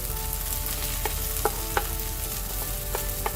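Tomatoes fry in a little oil in a pan for a stir fry with okra and eggs, giving a steady close sizzle with a few soft stirring clicks, no talking.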